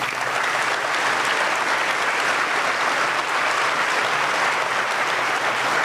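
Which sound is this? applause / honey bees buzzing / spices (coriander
applause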